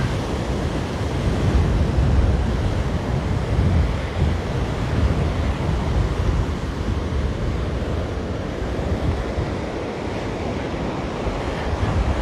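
Ocean surf rolls in at Waimanalo Beach on Oahu, Hawaii, a continuous roaring wash of breaking waves mixed with gusty wind buffeting the microphone.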